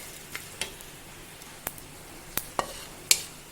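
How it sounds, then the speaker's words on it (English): Cumin seeds frying in a pan for a Goan chicken xacuti, a quiet sizzle with sharp sporadic pops and ticks of seeds crackling. "Frying the cumin seeds,"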